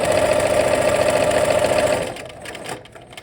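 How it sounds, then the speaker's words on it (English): Domestic sewing machine running steadily as it stitches a Y seam in fabric, a close, even mechanical hum with rapid needle rhythm that stops abruptly after about two seconds, leaving quiet handling sounds. "And start our stitching."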